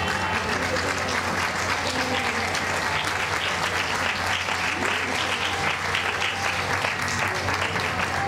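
Audience at an International Women's Day award ceremony in Peru applauding an honoree, a sustained, dense burst of clapping with some crowd noise and a faint voice underneath.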